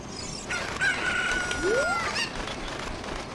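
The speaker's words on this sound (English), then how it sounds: "I always thought that was the chicken." A cucco chicken crows in the video game Ocarina of Time, one shrill rising-and-falling cock-a-doodle call over faint background game noise, heard alone without speech.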